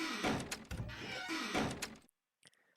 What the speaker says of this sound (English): the door sound, much better compared to